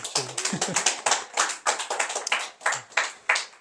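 A Korean church congregation claps in welcome of newly registered members: a brisk, fairly even run of hand claps that carries on for several seconds, close and clear with no talking over it.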